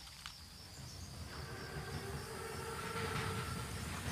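Armored wartime train rolling along rails near Argentan, France in 1944, a steady low rumble and rolling clatter that builds gradually, with faint metallic ringing tones above it.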